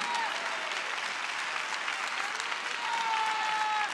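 Dense, steady applause from a large church audience at an evening revival festival in Newark, New Jersey, filling the whole stretch at an even level with a faint sustained tone running beneath it.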